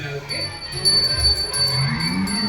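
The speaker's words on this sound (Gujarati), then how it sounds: "ઘંટડી વગાડો" A small bell rings repeatedly during a temple puja, with clear, bright tones beneath ongoing talk from nearby people.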